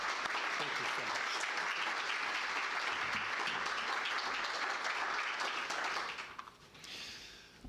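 An audience applauds at the close of a talk on the legal fallout of the residential school system, steady loud clapping filling the room for about six seconds before it thins out and fades.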